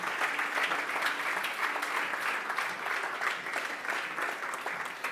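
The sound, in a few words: church congregation applauding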